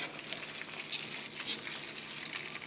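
Tomato sauce with olive oil sizzles in a pan over a fire, a steady close crackling fry with small popping spits throughout.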